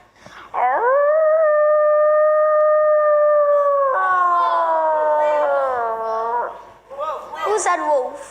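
A boy imitates a wolf with his voice, holding one long, loud, sustained howl that wavers and slowly falls in pitch, then trails off into short yips.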